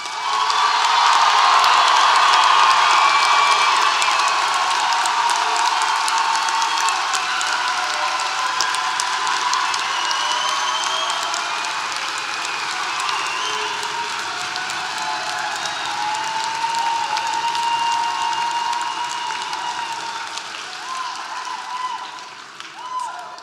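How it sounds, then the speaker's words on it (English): Sustained applause and cheering from a large commencement crowd at UT Martin's Fall 2025 graduation ceremony, a dense roar of clapping and voices that holds steady for over twenty seconds before slowly thinning out. "I'm going to give you 10 seconds to just give them another big round of applause."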